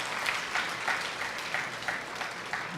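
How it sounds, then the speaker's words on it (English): Audience applause for volunteers at an interfaith banquet dinner, a steady wash of many hands clapping from a moderately distant crowd with no talk over it. "give them a round of applause"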